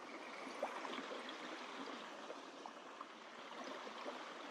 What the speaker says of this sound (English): And this is a really cool creek.